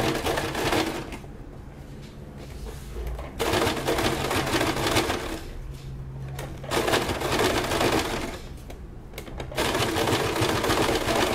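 A sewing machine stitches a bra in a steady, close, continuous run that carries on for the whole stretch, with small shifts in pace along the way.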